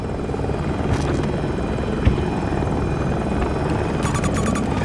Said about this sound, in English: First hit! Helicopter! 300 meters!